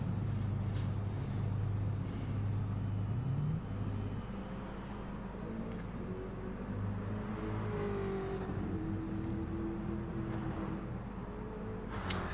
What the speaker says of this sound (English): These V8s, you hear that rolling.